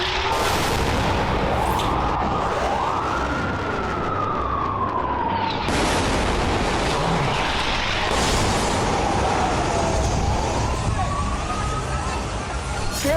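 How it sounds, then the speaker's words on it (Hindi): A rising and falling air-raid siren wails over a city during a rocket attack on Tel Aviv, with several deep booming explosions underneath, loud and continuous, mixed with a voice speaking. "तेल अवीव में इस वक्त फिर से रॉकेट का हमला हुआ है"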